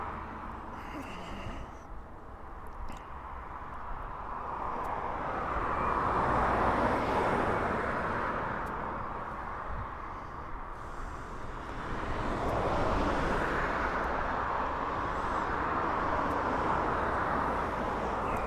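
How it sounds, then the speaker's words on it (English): Ryanair Boeing 737-800 doing touch-and-goes at East Midlands Airport, jet roar swelling in two broad waves as it passes, moderately loud and steady, with no voices. "this is the Ryanair 737-800, which is call sign Ryanair 100 Tango, which has been doing touch and goes all afternoon"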